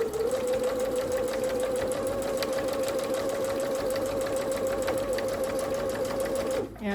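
A sewing machine runs continuously for several seconds at a steady speed, topstitching 2 mm from a folded edge near a zipper on a child's school satchel, with a whirring motor hum and rapid needle clatter, stopping just before the end.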